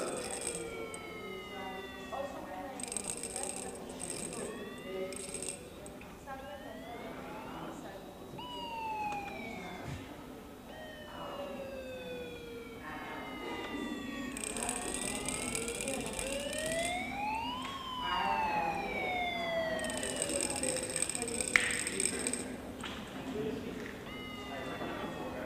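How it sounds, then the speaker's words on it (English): An improvised electronic circuit sounds when people touch hands to complete it, producing overlapping gliding tones that sweep up and down like sirens, with bursts of bright hiss, steady and fairly faint throughout. "their hands are connecting the circuit, so they're getting a sound while they're touching each other"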